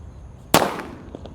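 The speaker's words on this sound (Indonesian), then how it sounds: "di sini ada mercon petir" A single sharp bang from a thunder firecracker cracks out close by during Eid al-Adha celebrations, followed by a short fading rumble.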